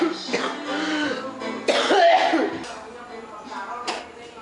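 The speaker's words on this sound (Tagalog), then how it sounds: "First ubo in 2026," Someone coughs a few times and clears their throat at a New Year's Eve gathering, close and fairly loud, with a voice briefly mixed in and quiet shuffling between the coughs.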